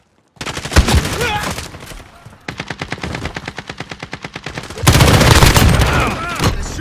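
Automatic gunfire in the Call of Duty Modern Warfare video game, loud rapid machine-gun bursts with a rhythmic stretch of single shots between them, close and dense, with game radio voices underneath.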